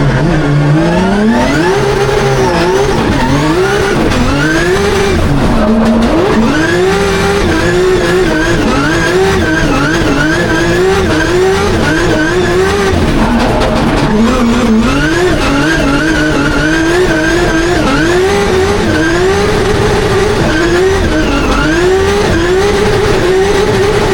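A drift car at a Drift Masters round in Spain revs hard and loud, with its engine pitch swinging up and down again and again and tires squealing through long slides over the whole stretch.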